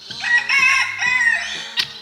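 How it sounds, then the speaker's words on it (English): Several roosters crow in loud, drawn-out calls on a farm-like property where turkeys and a peacock are also kept, the cries overlapping with brief clucks and a short sharp note near the end. "Some roosters in there apparently."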